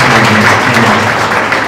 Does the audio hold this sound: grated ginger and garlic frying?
no